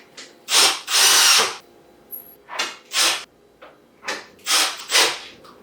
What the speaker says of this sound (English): Just go straight into tightening the actual nut.